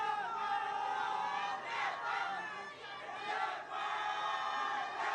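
A stadium crowd at a Nepal women's football match roars and chants continuously, loud and dense, with swells of cheering rising and falling across the stands.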